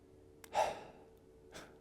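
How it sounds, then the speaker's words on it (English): Two soft, close breaths: a fuller inhale and exhale, then a shorter, fainter one after a pause, in a quiet room. "Just breathe."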